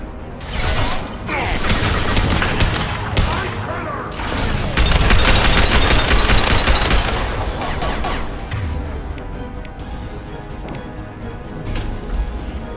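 Incendiary rounds fire in a Mass Effect 2 battle in a krogan hospital, with dense, loud bursts of weapon fire, booms and mechanical clatter sustained throughout and occasional voices beneath.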